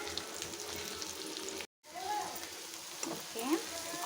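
Onions and green chillies fry in a pan with a steady soft sizzle, quiet and close, briefly cut off before resuming, with a voice faintly audible over it.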